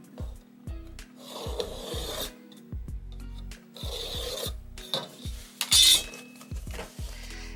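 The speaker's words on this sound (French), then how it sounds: "Et vous allez tracer une ligne" A pencil drawn across cardboard on a packaging box gives a series of short, close scraping strokes in an uneven rhythm, with soft taps and a brief brighter scrape near the end.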